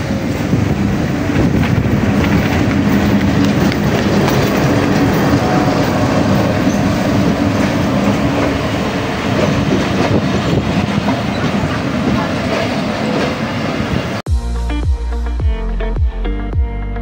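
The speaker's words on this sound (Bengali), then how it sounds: "ট্রেন ছেড়ে দিল, এখন আমরা চলে যাচ্ছি" Mahananda Express passenger train departing and running: a loud, steady rail rumble with wheel clatter throughout, with music taking over near the end.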